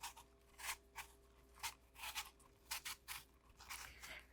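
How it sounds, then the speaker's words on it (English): A Granny Smith apple is peeled by hand, giving a series of short, crisp scraping strokes in an uneven rhythm, close but quiet, with no talking. "So we're gonna start by peeling an apple. I like to use Granny Smith,"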